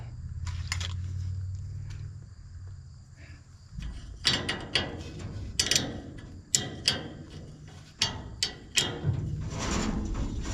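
Ratcheting and metallic clicks ring out as a screw is reset on the unload auger of an Oliver 7300 combine, a series of sharp, irregular close ticks and clanks after a quiet low hum.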